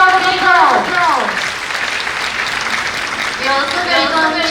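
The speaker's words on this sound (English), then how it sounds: "Please give them a great round of applause" Applause from a crowd at a college book-release ceremony during an India Japan festival, clapping running throughout under a loud amplified voice that speaks over the start and end.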